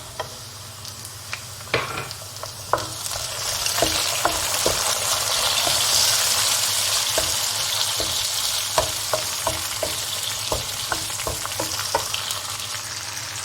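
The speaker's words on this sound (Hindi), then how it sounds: "मसाला हमारा भी भुन रहा है।" Masala with one chopped tomato and three green chillies frying for a turnip chicken gravy, a steady close sizzle with scattered sharp spoon clicks and scrapes against the pan, no voices.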